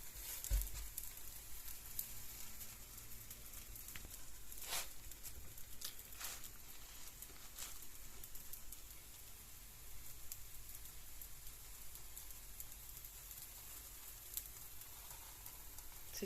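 Food sizzles on an Action multigrill set hot, a soft, steady crackle and patter running alone for the whole stretch, fairly quiet and even, with a few sharper pops breaking through.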